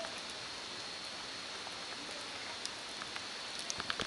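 Steady, faint patter of rain on a tent at night at Cidahu camping ground in the rainy season, with a few slightly louder drips toward the end and no voices.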